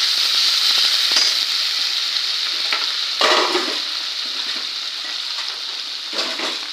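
Spice masala with salt, turmeric and a splash of water frying in oil for a rohu fish poppy-seed curry, a loud continuous hiss broken by a few scrapes of stirring, no talk.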